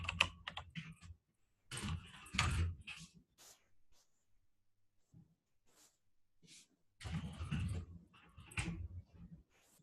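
Vehicle details are typed into a transit onboarding form on a computer keyboard in short bursts of soft, close keystrokes separated by near silence.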